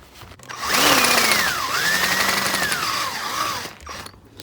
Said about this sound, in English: So let's find a 13mm drill. Just drill down a couple of centimeters or so.